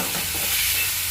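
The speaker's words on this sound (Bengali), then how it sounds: "এবার মা ভালো করে এটা নেড়ে চেড়ে কষিয়ে নেবে" Mustard chicken curry stirred and sautéed in a pan with a little water, a close steady sizzle with scraping stir sounds, brief and loud.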